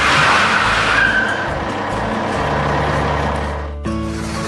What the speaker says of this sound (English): The dump truck is fully loaded now and heading out through the gates to clear the way.